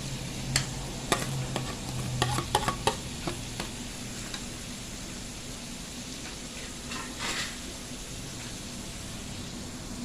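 Fried garlic and shallots being stirred into cooked pork larb in a pan, soft steady sizzling with a run of sharp utensil taps and scrapes early on, then quieter hiss with occasional stirring.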